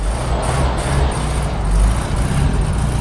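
A 1971 VW Beetle engine runs steadily right after an RC battery jump start, a loud, close, continuous rumble with a low throb, alone without talk.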